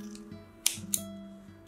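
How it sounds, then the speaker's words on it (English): Scissors trim the top off a paper booklet pocket, giving two sharp close snips over a quiet steady hum. "So I might just trim off the top with scissors."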